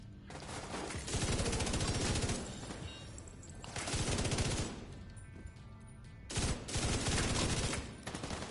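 Sustained automatic gunfire from Division 2 comes in three long, loud bursts, the sharp rapid shots separated by brief quieter gaps.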